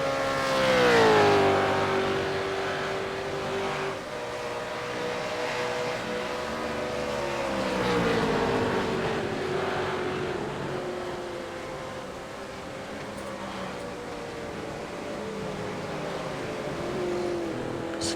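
V8 race cars in a veterans' round circuit race roar past, their engine notes rising and falling in long sweeping pitch glides, steady and fairly loud throughout with no talk.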